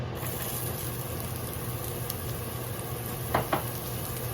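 Scallion whites sizzling in hot oil in a frying pan, a steady close hiss running throughout, broken near the end by two brief clinks of a utensil against the pan.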